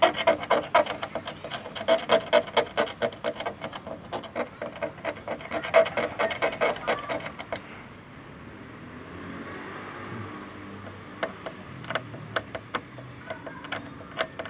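A circuit board trace inside an LG 32LB563D LCD TV is scraped in quick rhythmic rasping strokes, then pauses briefly before a few more scrapes. The sound is close and nobody speaks.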